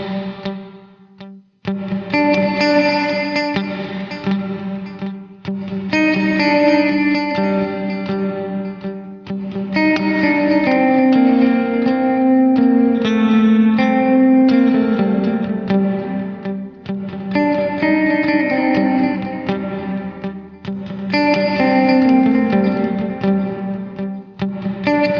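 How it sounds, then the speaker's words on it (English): Electric guitar through a Line 6 DL4 MkII pedal set to glitz reverb with digital delay on top, sustained chords and notes blooming into shimmering, repeating echoes, loud and alone with brief pauses between phrases. "So now I'm going to have the glitz reverb with a digital delay on top."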